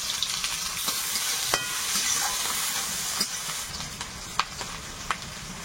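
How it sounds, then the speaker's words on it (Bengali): Five-spice seeds, chopped onion and green chili frying in oil in a pan, giving a steady close sizzle with occasional sharp pops and stirring scrapes. "তেলে একটু পাঁচ ফোড়ন, পেঁয়াজ কুচি, কাঁচা লঙ্কা এত লাগবে না"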